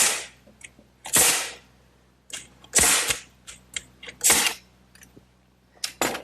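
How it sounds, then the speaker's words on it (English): A hammer drives nails into a wooden seat slat on an Adirondack chair: sharp, loud, close strikes come in irregular bursts, with quieter taps between them. "I'll just line it up by eye and fasten it with a couple nails in each end"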